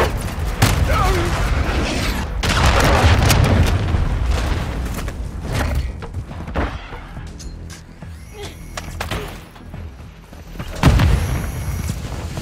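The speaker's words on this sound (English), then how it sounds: "Hostile cruise missile incoming." Cruise missile strike in the video game Modern Warfare 2, heard as loud booming blasts and rumbling gunfire-like bursts that swell and fade, with a sharp burst near the end and game voice chatter mixed in.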